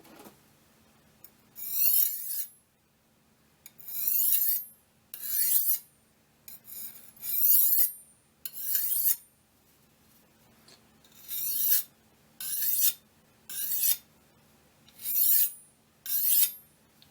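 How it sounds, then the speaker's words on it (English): A thin knife blade being sharpened, about ten rhythmic rasping strokes spaced with short pauses, close and crisp with a bright scraping edge, no voices. "that sound when you're sharpening them, that little like sing afterwards"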